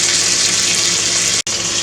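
A quarter cup of water pours steadily into a crock pot in a hissing, splashing stream that cuts off abruptly for a moment near the end, close and loud, with no talking.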